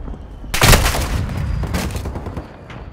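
A video game battle erupts with a sudden loud blast, likely a grenade, followed by a dense, continuing rattle of gunfire and booms that gradually thins out, with no talking over it.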